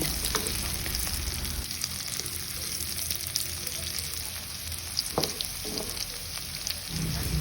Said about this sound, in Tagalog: So ayan, gisa-gisa lang tayo. Pwede natin isama yung karne.